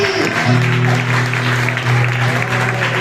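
A church congregation at a men's worship service claps steadily for about three seconds, with sustained organ or keyboard tones and crowd voices blending underneath the dense applause.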